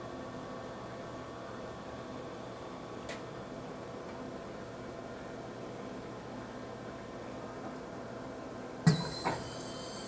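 Mitsubishi sinker EDM machine indexing and moving over to its tool shuttle, a faint steady hum with a soft click early on, then a sudden louder mechanical clunk and whir near the end.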